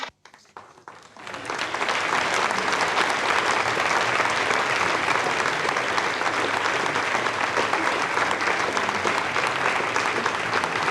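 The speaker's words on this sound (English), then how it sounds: "you hear the applause now from the people here in Jupiter" Ariane 5 launch control staff in Jupiter break into applause after satellite separation. After a short quiet moment, dense, steady clapping swells in and holds at an even, full level to the end, with faint voices mixed in.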